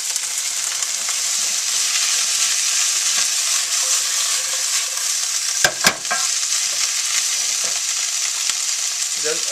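Stem cabbage is stir-fried in a pan for Tibetan shaptse. A loud, dense sizzle hisses steadily throughout, broken by a couple of sharp utensil knocks near the middle.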